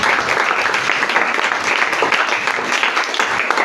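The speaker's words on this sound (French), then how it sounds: "Est-ce qu'on peut acclamer la parole de Dieu?" A church congregation applauds and cheers together during a Bible teaching on the local church, a dense, steady wash of clapping that holds evenly at full strength throughout.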